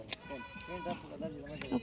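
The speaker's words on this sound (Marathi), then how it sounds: "तुम्ही बघू शकता इथे किती छान छान शेळ्या आहेत" Goats bleat repeatedly at close range on a farm with cows and buffalo, several wavering calls overlapping one another against faint background noise.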